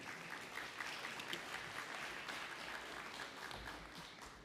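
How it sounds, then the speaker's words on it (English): An audience at an Indigenous cleaner energy forum applauds its panelists, giving a continuous, evenly sustained round of clapping that sounds faint and distant. "Another big round of applause for our panelists."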